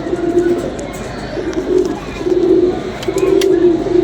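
Pigeons cooing close by, a series of low, soft throaty coos repeating with short gaps, over a faint background hiss.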